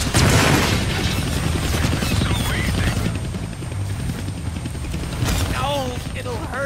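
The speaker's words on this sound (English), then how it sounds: "I can't kill that chopper with my guns," A chopper in the Deadpool video game flies overhead with a loud, steady rotor roar. Game sound effects cut through it, including a burst near the start and sweeping chirps late. Voices talk over the noise throughout.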